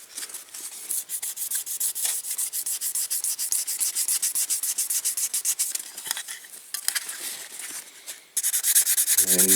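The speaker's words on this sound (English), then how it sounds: "a bit of sandpaper on it, wet and dry one" Wet and dry sandpaper is rubbed back and forth over a Dinky Toys model caravan in quick, close, rhythmic scratchy strokes that run continuously, with a brief clunk near the end.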